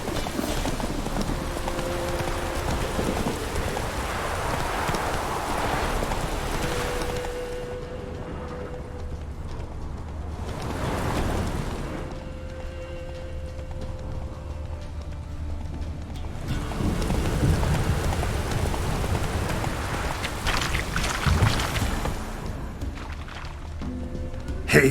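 Roach, a horse in the video game The Witcher 3, gallops through rain with steady hoof clip-clops over a constant wash of rain and wind, alone and fairly loud for the whole stretch.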